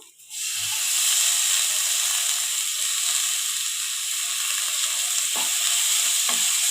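Chopped tomato sizzles loudly in a hot pan over ginger garlic paste for a gongura meal maker curry, a steady close frying hiss broken by a couple of brief stirring scrapes near the end.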